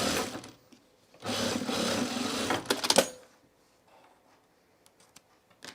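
A sewing machine stitches through layers of a bag in two bursts, a short one and then a longer steady run of close, busy mechanical whirring that ends with a few clicks before quiet.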